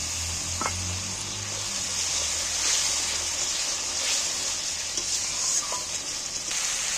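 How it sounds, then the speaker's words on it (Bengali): Potatoes sautéing with spices in a pan give a steady, fairly loud sizzle, with occasional light scrapes and clinks of stirring throughout. "এবার আলুগুলোকে একটু কষিয়ে নেব মশলা দিয়ে"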